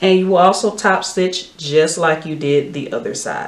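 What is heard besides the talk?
No distinct noise like a dog, phone or traffic.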